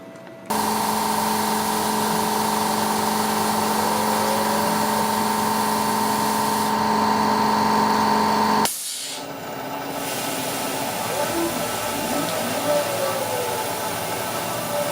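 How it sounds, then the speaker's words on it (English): An air compressor runs loudly alongside a CNC machine cutting a brass-inlaid flute case, giving a steady mechanical drone and whine that cuts off abruptly partway through, leaving fainter machine noise behind, with no talk. "I've had to put the compressor on because the swarf was clinging to the cutter"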